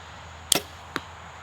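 Two quick, sharp snaps from a bow firing a Grizzlystik TDT 170 arrow of 830 grains with a 300-grain tip, a louder release followed by a softer thud, both brief and fairly quiet.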